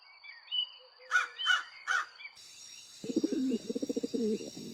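Crows caw in an animated story about a flood, with three loud harsh caws in a row. A lower, rapid cooing or chattering bird call follows over a steady high background hum.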